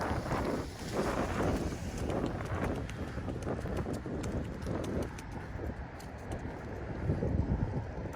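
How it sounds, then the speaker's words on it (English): Strong gusts of wind buffet the microphone outdoors at night on a city street in Philadelphia, a loud continuous rumbling roar with rough, irregular bursts and no clear talk. "Like the wind is blowing the whole umbrella."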